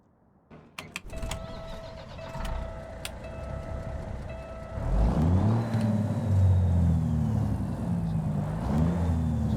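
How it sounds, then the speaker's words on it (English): Cummins Big Cam 3 400-horsepower diesel truck engine in American Truck Simulator: quiet clicks and a tonal whine at first, then the engine fires up into a loud, steady rumbling idle with low pulsing harmonics. "Big Cam, Cummins Big Cam 3. Everybody's raving about this 400 horsepower engine."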